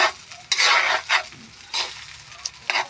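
Corn rice is stirred and fried in a pan with plain garlic, giving close scraping spatula strokes over a soft sizzle in irregular bursts.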